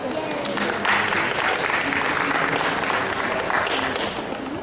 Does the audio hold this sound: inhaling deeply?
no